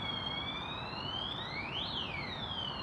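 A siren-like alarm wails in the distance, a rising and falling electronic tone sweeping up and down across a few seconds, steady and moderately faint against background hum.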